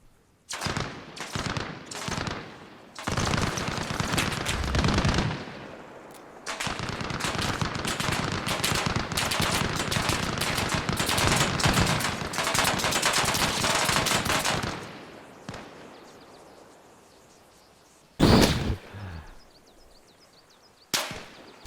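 Video-game gunfire against a BRDM armored vehicle: a few sharp single shots, then long rapid automatic bursts that stop abruptly, followed by one more isolated loud shot near the end.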